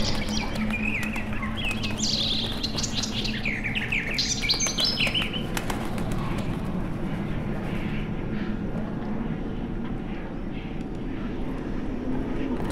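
Songbirds chirp and warble in a forest setting of The Witcher 3 video game, bright varied calls clustered early, then fading under a steady low rumble like a distant engine for the rest.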